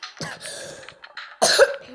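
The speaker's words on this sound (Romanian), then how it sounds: "Nu cred că vă deranjează dacă eu tușesc sau ceva de genul." Two coughs from one person, the first short and moderate, the second louder and harsher after a pause, heard close with no speech.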